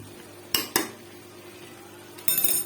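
Masala is mixed into mutton korma in a cooking pot: two sharp metal clanks of a spoon against the pot, a quiet pause, then a brief burst of scraping stirring, with no talking.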